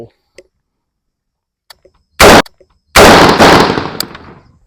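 Two sharp pistol shots fired at a target on a range, the first a short crack and the second louder with a longer ringing tail, separated by a brief pause with near silence before them.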